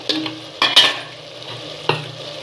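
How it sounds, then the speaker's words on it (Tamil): Carrots, kohlrabi, potatoes and beans fry in oil with onion, tomato, ginger and garlic for a vegetable kurma, a soft steady sizzle broken by three scraping stirs of a spoon against the pan. "இப்போ இதெல்லாம் சேர்த்து ஒரு முறை நல்லா கிளறி விட்டுலாங்க நல்லா எண்ணெயிலே வதங்கிட்டோம்"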